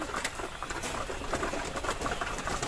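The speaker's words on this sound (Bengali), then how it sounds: "দেখে ধান খাচ্ছে কবুতর" A flock of pigeons pecks at scattered paddy at feeding time, making a dense, soft patter of pecking and shuffling with faint coos mixed in, steady and fairly quiet throughout.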